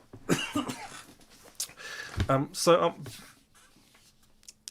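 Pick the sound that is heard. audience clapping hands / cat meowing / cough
cough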